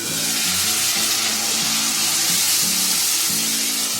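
Lentil batter poured into a hot pan sizzles loudly and steadily up close, a continuous frying hiss with faint scraping underneath and no talking.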